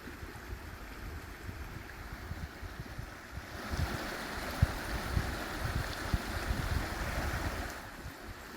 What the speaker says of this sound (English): listening to the water